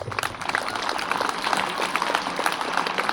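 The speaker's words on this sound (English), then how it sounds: "A round of applause for them, please." Brief applause from an audience at an award ceremony honouring two students' achievement, a moderate patter of clapping lasting about three seconds.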